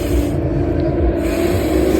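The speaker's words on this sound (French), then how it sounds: "il y a toujours du bruit aussi derrière. Il y a toujours des voitures qui tournent." Formula One cars lap the circuit at the Belgian Grand Prix, heard as a steady distant engine drone and hum behind the nearby surroundings.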